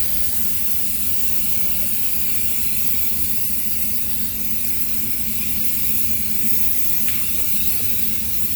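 Clear coat sprayed onto a Firki (a kite spool) makes a loud, continuous hiss that holds steady throughout, with no pauses and no voices.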